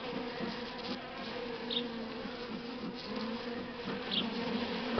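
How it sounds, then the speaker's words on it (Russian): Buckfast honey bees buzz around a hive during queen introduction into a split, a soft continuous drone of many insects, with an occasional bee passing close, and no one speaking. "Сейчас я этих пчел загоню уже."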